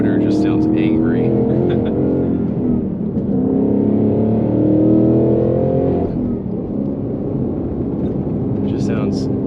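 A 2021 Ford Mustang Mach 1 with its 5.0 V8 rumbling and revving, a loud steady harmonic drone that swells and eases, heard from inside the car alongside some speech.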